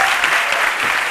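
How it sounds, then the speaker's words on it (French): Studio audience applause on a live midday television show, a dense, steady wash of many hands clapping close and loud throughout, with no voices over it. "on applaudit très fort pour lui."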